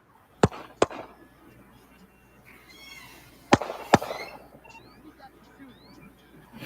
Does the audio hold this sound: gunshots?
yes